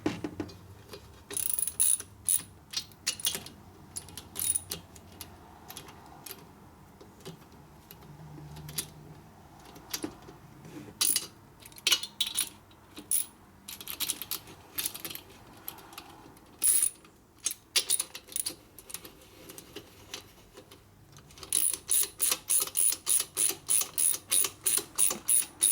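Socket ratchet tightening bolts in a torque pattern on a 1961 Harley-Davidson XLCH Sportster Ironhead engine during a rebuild, heard as repeated bursts of close, sharp ratcheting clicks with brief pauses and a fast, steady run near the end.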